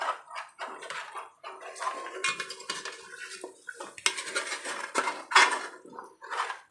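Chicken masala for a Telangana-style chicken fry is scraped and stirred in a pan, with steady metallic scraping and clinking of a spoon against the pan in close, busy strokes throughout.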